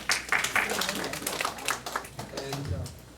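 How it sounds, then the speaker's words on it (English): Scattered claps from a small classroom-style audience at a quiz, brief and uneven, mixed with talking voices over the top. "Give him applause."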